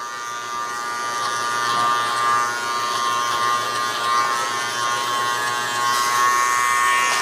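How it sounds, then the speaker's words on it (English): Zero-gap hair clipper buzzing steadily throughout a mid taper haircut, a close, continuous electric hum with no talking. "We are about to switch to a more zero gap tool or zero gap clipper"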